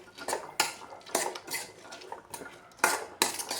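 Protein snacks being mixed in a bowl with a spoon, giving repeated clinking and scraping strokes in an uneven rhythm, close and fairly loud, with no talking.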